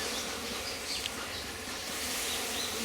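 Apis cerana bees swarm around an opened hive, a dense, steady buzzing hum that fills the air close by without letup, with no voices over it.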